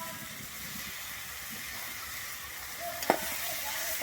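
Red lentils stirred into banana flower in a pan: a soft, even frying hiss with faint stirring, one brief clink of utensil on pan near the end, fairly quiet and close, with no talk.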